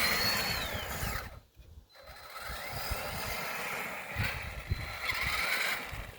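Traxxas Summit RC truck running in low gear, its electric motor giving a steady whine with shifting pitch over crunching wheel and terrain noise, briefly dropping out before resuming close by.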